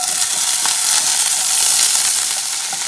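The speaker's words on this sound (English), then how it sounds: "Now I'm going to add some curry leaves, the red chilies, and the onions." Curry leaves, red chilies and onions frying in hot oil as seasoning for a Kerala tomato curry, a loud continuous crackling sizzle close up, with no voices.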